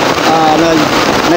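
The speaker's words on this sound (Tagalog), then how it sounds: "Kung sobrang ulan na, sobrang malakas ang ulan" Heavy rain pours steadily as a dense, hissing wash that fills the whole short moment, with no let-up and no voices.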